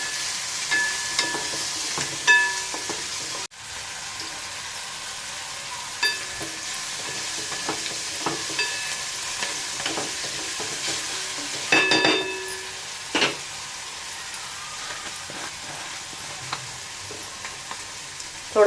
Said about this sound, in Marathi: कोथिंबीर घालूया वरनं. थोडं परतून घ्यायचं आहे.